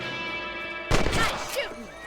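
A single sharp rifle shot rings out in the video game Red Dead Redemption, a loud broadband blast following quiet ambience, with a trailing echo and a brief second crack at the end.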